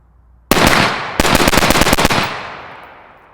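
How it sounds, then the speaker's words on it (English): A 5.56 rifle fitted with an LMT Ion K suppressor fires a quick volley of about ten rounds outdoors, a sharp opening shot followed by a rapid string of loud, close, muffled cracks that trail off into a fading echo. "I'm gonna shoot 10 rounds real fast and see if I feel anything through this gun yet"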